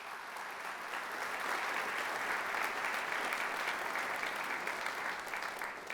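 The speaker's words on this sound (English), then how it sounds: "a round of applause for you" Applause from an audience at an awards event, sustained and even clapping that swells slightly and carries on at a moderate, distant level.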